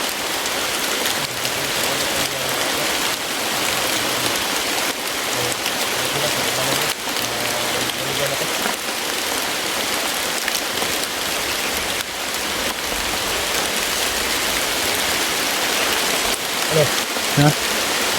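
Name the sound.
heavy rain falling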